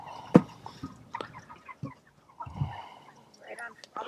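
A small farm chicken, about five pounds, clucks and squawks while being set in a bucket to be weighed, giving short, close, irregular calls with a sharp squawk early on, over light handling noise.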